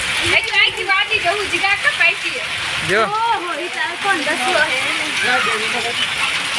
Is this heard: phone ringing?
no